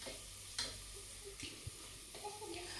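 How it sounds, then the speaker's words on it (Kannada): Sliced onions frying in a pan make a quiet, steady sizzle, broken by a few sharp clinks and scrapes of stirring and a soft water-like splash. "ಇದು ಆನಿಯನ್ ಏನಿದೆ ಸ್ವಲ್ಪ ಒಂದು 2 ರಿಂದ 3 ನಿಮಿಷ ಈ ಥರ ಫ್ರೈ ಮಾಡ್ಕೊಳ್ತಾ ಇರಿ"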